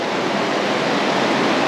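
Hikers wade through cold river water in the Narrows of Zion, giving a steady, loud, close rush of churning water with no pauses and no voices.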